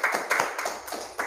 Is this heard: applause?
yes